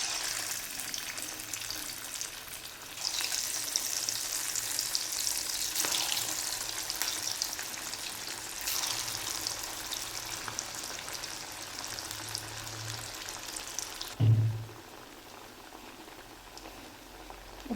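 Potato-peanut tikki frying in hot oil, a continuous bubbling sizzle that swells louder after a few seconds, with a brief low clunk near the end before the frying fades quieter.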